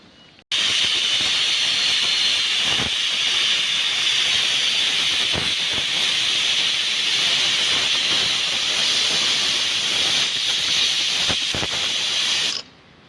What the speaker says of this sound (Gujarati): 4 સીટી વાગીને કુકરને આપણે ઠંડુ કરી લીધું છે